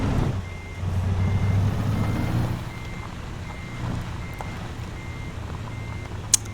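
In-game engine rumble of a big truck in American Truck Simulator while backing up, with a steady high reversing beep repeating faintly over the low drone and a sharp click near the end.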